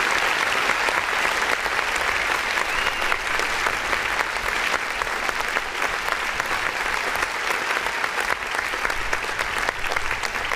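A live online music review stream's audience gives steady, dense applause for the host's eleven-hour all-nighter, filling the whole stretch at an even level with no talk over it.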